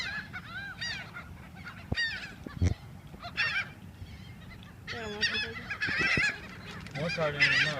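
Geese and other fowl honking and calling repeatedly while being fed, a busy mix of close, fairly loud honks in irregular bursts, with occasional people talking nearby.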